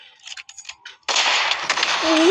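In a video game, after a few faint clicks, a TNT-carrying zombie explodes loudly and rumbles on as a sustained noisy roar, with a short tonal blip near the end.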